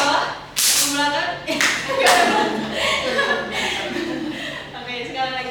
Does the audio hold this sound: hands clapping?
yes